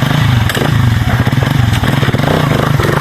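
A motorcycle runs close by with a steady, rough, rumbling engine drone and some rattling clatter, loud and continuous, with no talking.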